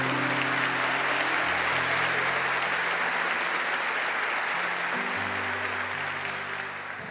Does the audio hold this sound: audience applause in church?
yes